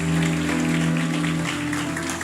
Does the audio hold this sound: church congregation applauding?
yes